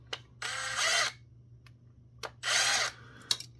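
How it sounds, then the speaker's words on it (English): A power drill works on a Trendnet TV-IP400W/A wireless pan-tilt network camera during a teardown, in two loud, steady whirring bursts separated by quiet and a few small clicks. "Need to use the drill."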